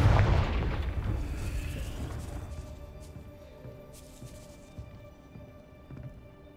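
A Confringo blasting spell explodes in a Harry Potter video game: one loud, deep boom hits at the start, then rumbles and rings away over several seconds.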